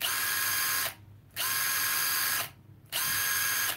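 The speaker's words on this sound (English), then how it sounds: "Impact driver, rigid." A Ridgid impact driver runs in three loud, harsh, buzzing bursts, separated by two short pauses, close up with no talking.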